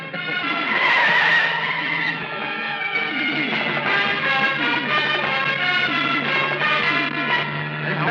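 Tires skid and squeal during a car chase in a Marathi comedy film, a loud continuous screech with layered harmonic tones over engine rumble and background music, lasting several seconds without speech.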